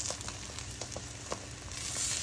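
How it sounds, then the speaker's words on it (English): Cheese sizzling in a hot pan, a steady soft crackle and hiss with scattered small pops, close and fairly quiet, no voices. "And this cheese is just sizzling so nice"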